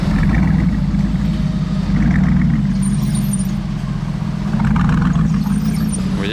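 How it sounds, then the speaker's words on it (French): A hypercar exhaust revs loudly and up close in a Monaco street convoy during the Grand Prix, with a deep, sustained engine roar that swells and eases over several seconds and no talking. "Et l'échappement, je sais pas ce qu'il a fait. C'est somptueux le bruit que ça fait."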